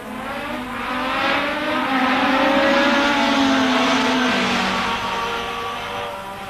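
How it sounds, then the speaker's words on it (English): Turbocharged Renault V6 Formula 1 race cars from 1984 scream past at the San Marino Grand Prix, a loud sustained engine howl that swells as they approach, peaks, and fades slightly away, with no talk over it. "Both in Renault-powered cars, V6 Renault turbo engines."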